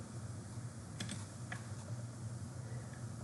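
Computer keyboard typing while an assessment title is entered: a few quick, light keystroke clicks near the middle over steady room hiss, with no talking.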